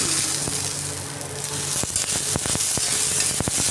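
Onion and green chilli fry in a pan for a bitter gourd curry, giving a loud, steady sizzle close up, broken by a few sharp scrapes and clicks from stirring near the end.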